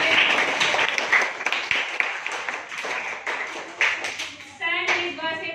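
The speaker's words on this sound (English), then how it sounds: "Very nice. Clap for Vini." Students at a harvesting festival quiz clap together in a loud, brisk round of applause close by, with a teacher's voice speaking over the final moments.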